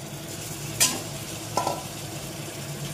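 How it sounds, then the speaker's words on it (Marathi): Dried Bombay duck fish stir-frying in a wok, a soft continuous sizzle broken by two sharp utensil scrapes against the pan. "चांगले असे परतून घेऊया आपण"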